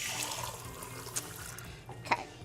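A kitchen tap runs water while Cajun chicken pasta is cooked, a faint steady hiss of flowing water with a couple of small clinks near the end.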